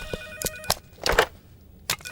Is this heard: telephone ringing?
yes